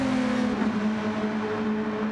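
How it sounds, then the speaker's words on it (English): Race cars driving in a tight pack into a turn in a racing video game, with loud, steady, high-pitched engine drones holding a sustained pitch and shifting slightly. "all three cars now in a very tight train going into turn 1."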